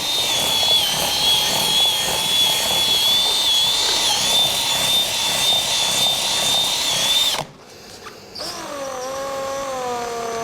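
A paddle mixer spun by a power drill whirs steadily through Sika Pro-Tecta metal roof primer, its loud, constant whine holding for several seconds before cutting out abruptly, then a brief quieter whir follows as it spins again.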